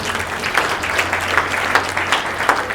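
A funeral congregation applauds in steady rhythmic clapping, with a continuous low hum under it and no voices above the applause.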